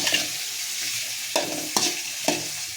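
Tomatoes sauté in hot oil with curry leaves for an oily eggplant curry, under a continuous close sizzle, with four sharp scraping stirs of the spoon near the end.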